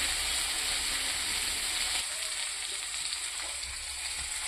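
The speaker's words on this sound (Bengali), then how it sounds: "মশলার সাথে এটা অল্প ভাজা ভাজা করে নিচ্ছি" Flat beans (shim) lightly frying with spices in a pan, a steady hissing sizzle that holds close and even throughout, easing slightly in the second half.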